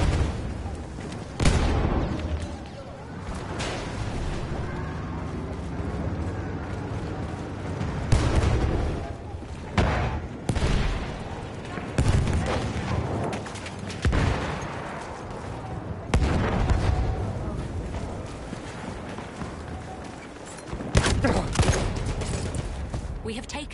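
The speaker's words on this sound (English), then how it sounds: "Machine gun! Hostile!" Video game machine gun fire with bursts of gunshots and booming impacts throughout a loud, dense battle, with voices calling out amid the din.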